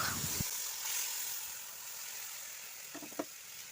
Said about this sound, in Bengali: তো আদাটা এবার আমি তেলে নাড়াচাড়া করে নেব।